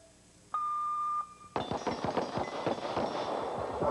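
A steady electronic start beep, then a fast, loud string of handgun shots in a shooting competition run at the 1984 Bianchi Cup, the cracks echoing one after another across the range.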